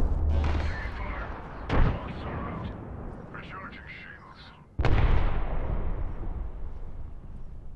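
Frag grenade explosions in the battle royale game Apex Legends, two heavy booms a few seconds apart, the second louder with a rumbling tail, with voices talking over the fight.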